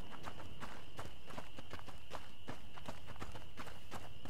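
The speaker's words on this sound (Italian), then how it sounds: "Qui c'è un cavallo." Horse hooves in A Plague Tale: Innocence, a steady clip-clop of a horse walking close by, with regular sharp hoof strikes over a constant high-pitched background tone.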